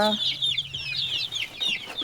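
Native country chickens and their young chicks on a small farm, the flock troubled by a health problem, peep and cluck continuously, with a busy stream of high, close chirps over softer low clucks.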